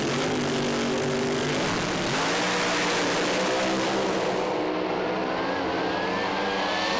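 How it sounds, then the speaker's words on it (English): Drag racing cars rev their engines at the start line, a loud continuous roar that builds steadily and holds up close, with pitch climbing near the end. "You hear the revs building up on these cars as they bring him edging forward."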